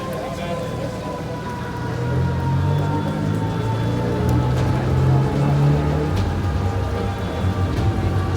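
Steady rain patters on a surface close by, with a low rumbling hum underneath that swells partway through.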